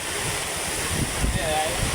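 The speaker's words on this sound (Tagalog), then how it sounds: "Yan, lumakas na hangin." Steady, roaring gusts of wind buffet the microphone, a loud, constant rush with low rumbling throughout.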